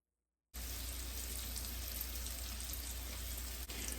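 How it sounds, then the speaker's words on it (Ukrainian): Zucchini cutlets frying in olive oil in a pan give a steady, loud, even sizzle that starts abruptly after half a second of silence and continues unbroken, with no talking. "І ставити на сковорідку жарити."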